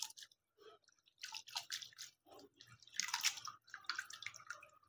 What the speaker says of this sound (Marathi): आता वरतून आपण थंड पाणी टाकून घेतलं.